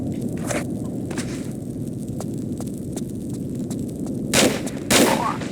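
Revolver fire in the Tomb Raider Level Editor game, with footstep-like thumps and clatter under a steady game ambience, then two louder bursts of gunfire near the end.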